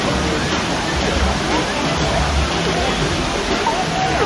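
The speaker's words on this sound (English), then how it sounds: "the rocks and the waterfall." Steady broadband rush of a waterfall spilling over rocks in a themed amusement park at Halloween, loud and continuous from start to end, with faint voices mixed into the roar.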